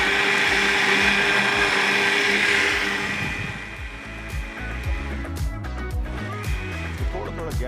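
Home blender grinding ingredients into a fine paste for a drink, a loud, steady motor whine that drops in pitch partway through as the load changes, followed by fainter rattling pulses.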